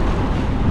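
Steady, roaring wind from Typhoon Hanna on the Pacific Ocean buffets the microphone in a continuous low rumble, with a faint wash of water underneath.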